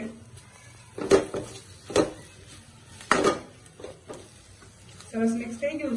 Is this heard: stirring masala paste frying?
yes